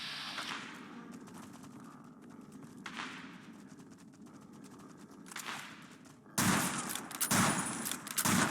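Video game gunfire sounds in faint, scattered bursts behind a low rumbling background, followed by a louder, denser volley near the end.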